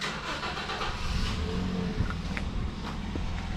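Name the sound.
car being driven out through the gate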